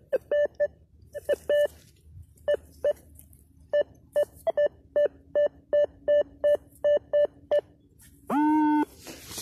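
Metal detector in a farm field giving repeated short electronic beeps in quick bursts and an irregular rhythm, ending with a longer warbling tone, clear and close.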